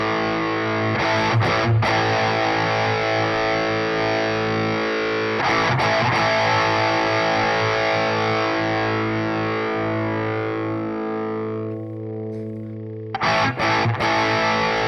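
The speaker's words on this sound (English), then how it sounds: "It's almost like having two guitars. You got one that's got a little more distortion on it than the other" Electric guitar played through a Wampler Brent Mason overdrive/distortion pedal: a few strummed chords with heavy, buzzy distortion, each left ringing long and sustained before fading, loud and close.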